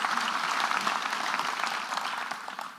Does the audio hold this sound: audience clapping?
yes